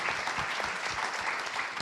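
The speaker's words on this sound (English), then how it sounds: "Then the applause, absolutely." A crowd at a Brooklyn civic panel event hosted by the Bedford-Stuyvesant Restoration Corporation applauds steadily and fairly loudly, a dense wash of many hands clapping without a break and no voice on top.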